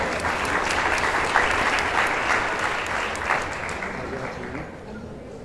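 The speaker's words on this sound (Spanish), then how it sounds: "Gracias, un aplauso a él, por favor." An audience at a youth summit gathering breaks into steady applause, a dense wash of many hands clapping close by, gradually thinning and fading toward the end.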